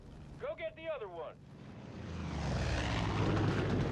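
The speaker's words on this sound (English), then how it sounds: "Flying is a great way to travel, explore the county, and scout out new opportunities." Plane flying in the video game Far Cry 5, a broad rising engine roar that swells and holds after a brief burst of voice at the start.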